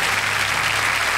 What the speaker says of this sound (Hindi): आप लोग ताली बजा लीजिए।